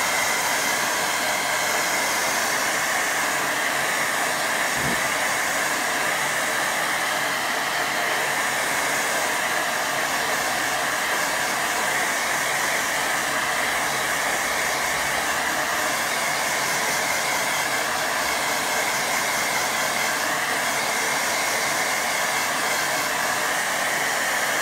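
A hair dryer blows steadily on a watercolour painting, a loud, constant whooshing hiss from start to finish at close range, with no talking.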